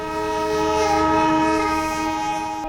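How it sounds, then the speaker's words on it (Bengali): The Darjeeling toy train on its mountain railway gives off a loud, sustained horn or whistle-like tonal blast lasting several seconds, close and unbroken, with no talking. "ধীরে যাত্রা শুরু করলো আমাদের এই ছোট্ট খেলনা রেলগাড়ি"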